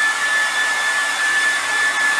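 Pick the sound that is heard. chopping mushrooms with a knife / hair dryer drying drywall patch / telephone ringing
hair dryer drying drywall patch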